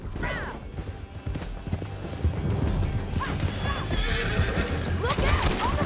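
Horse in the Red Dead Redemption 2 video game, galloping hooves clip-clopping steadily with repeated loud whinnies and neighs amid game sound effects.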